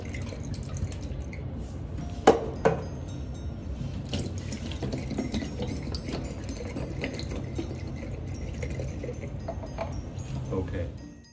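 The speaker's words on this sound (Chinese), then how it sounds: "好了，跟着倒水，" Water pours and splashes steadily onto a tiled bathroom floor during a flat inspection, a continuous running, gushing flow with a couple of sharp knocks early on, fading out at the end.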